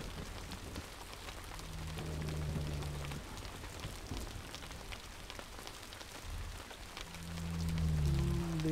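Steady rain patters in the Indian Truck Driving Game 3D, with a broad hiss throughout, low engine rumble swelling underneath at times, and no voices.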